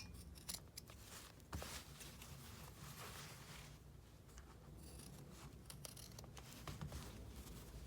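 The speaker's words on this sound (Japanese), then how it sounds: "こちらとこちらの余分なファスナーを切っておきます。" Scissors snip off excess zipper tape while a zipper pouch is sewn, giving a few faint, close cuts and light rustling in a quiet room.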